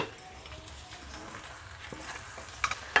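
Kuttanadan-style duck roast masala is stirred in a pan, giving a faint, low sizzle with soft scraping and a few sharp clicks of the spoon against the pan near the end.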